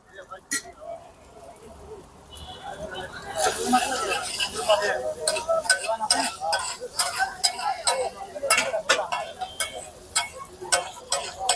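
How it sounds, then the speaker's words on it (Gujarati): Garlic goes into pav bhaji cooking in a pan, with a spoon scraping and clinking against the metal in quick irregular taps, steady and close, after a quieter start; a voice speaks over it. "હવે આપણે આમાં લસણ નાખશું."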